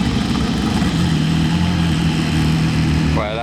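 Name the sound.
sports car engine revving like a race car in Monaco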